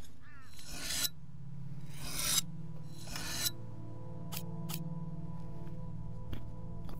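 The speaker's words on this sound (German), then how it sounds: "Schere schleifen" Three long rasping strokes of scissors being sharpened in a video game, steady and close, followed by a few short clicks over a low electronic hum.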